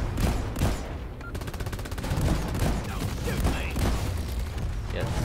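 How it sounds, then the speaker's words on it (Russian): Rapid, dense gunfire rattles from a gun in the video game Deep Rock Galactic, with close, continuous bursts of sharp shots and booming impacts that run throughout. "Я стрелять буду, просто пушка"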